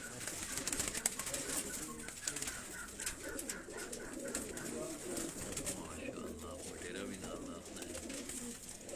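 Tunia breed pigeons from Sialkot coo softly and steadily at a loft, with faint bird chatter and background voices mixing in throughout.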